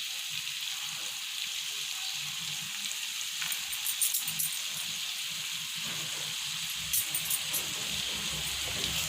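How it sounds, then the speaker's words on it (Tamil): Chicken pepper fry sautés in a skillet over a medium flame, a steady close hiss and sizzle with occasional louder crackles and stirring scrapes, and no talking. "நல்லா மீடியம் ஃப்ளேமில் வச்சு வதக்கிக்கோங்க"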